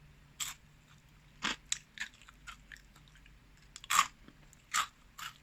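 Crunchy fries being chewed up close, several loud crisp crunches in irregular bursts with quiet pauses between, no talking.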